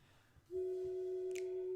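A phone rings indoors at moderate distance, a steady electronic tone starting abruptly and holding without a break, over faint background noise.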